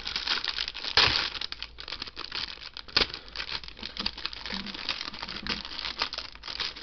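Plastic and paper packaging of a DeLorean model kit being opened and handled, continuous close crinkling and rustling with a few louder crackles.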